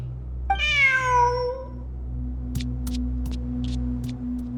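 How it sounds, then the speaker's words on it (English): A single drawn-out cat meow in the game Genshin Impact, close and clear, followed by a few faint clicks against a low steady hum. "Who's a good kitty?"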